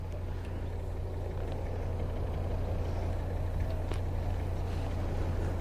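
A car engine runs steadily nearby outside RAF Mildenhall, a constant low idling drone with faint background noise and no talking.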